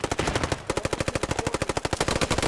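Rapid automatic gunfire in a video game, a loud, close burst of evenly spaced shots that runs almost without pause, with one brief gap early on.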